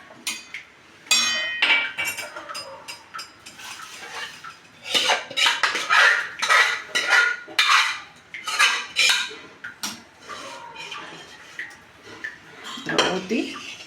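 A utensil scrapes and clinks against a metal pot while sambar ingredients are mixed, with repeated bursts of clanking and scraping at an uneven rhythm, close and fairly loud, without talk.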